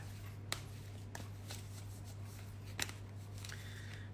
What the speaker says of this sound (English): Shuffling, shuffling.